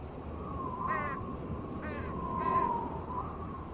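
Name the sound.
bird calling in a video game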